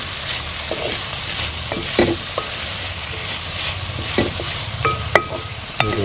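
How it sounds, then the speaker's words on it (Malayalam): Ginger, garlic and turmeric powder frying in a pan for beef roast, stirred with a wooden spatula: steady sizzle with scraping strokes and a few sharp clicks near the end, no talking. "ഈ മരത്തിൻ്റെ ഇതുകൊണ്ട് ഇളക്കുമ്പോഴേ ഈ അടിയിൽ ഈ ഇഞ്ചി വെളുത്തുള്ളി മഞ്ഞൾപ്പൊടി ഇതൊക്കെ അടിയിൽ പിടിക്കുക."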